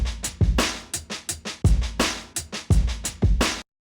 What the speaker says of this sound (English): So I have a drum break pulled up and it sounds like this.